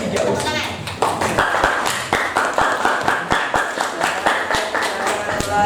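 Audience clapping at a teachers' coaching and academic supervision session in a room, a steady run of near, distinct hand claps that rises after the first second, with talk underneath.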